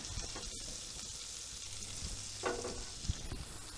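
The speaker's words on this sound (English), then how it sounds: "saute the garlic and the sage into some butter" Garlic and sage sauté in butter in a cast iron pan, a steady close sizzle and crackle with a brief scrape or stir near the end, no voices.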